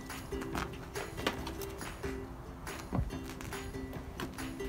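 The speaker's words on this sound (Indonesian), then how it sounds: "Ada kuda-kuda untuk abang." Horses walk on a winter day in South Korea, their hooves giving faint, irregular clip-clops against a noisy outdoor background, with occasional sharper knocks.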